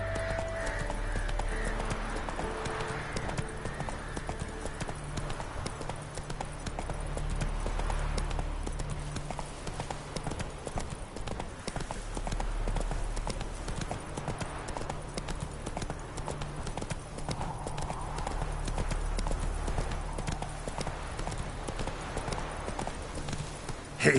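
Roach, Geralt's horse in The Witcher 3: Wild Hunt on PS4, gallops with a steady, continuous clip-clop of hooves, loud and close throughout, over a low ambient game soundscape with a brief whinny.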